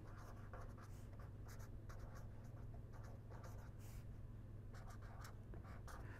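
Pen or marker writing notes during a lecture on energy economics, a steady series of scratchy strokes over a constant low hum, faint and close.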